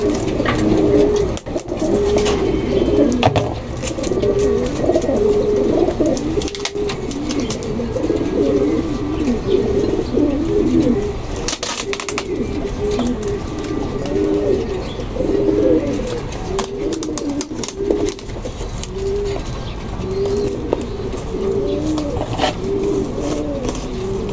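Many pigeons coo continuously in overlapping, throaty calls close by, with occasional flutters and faint background noise.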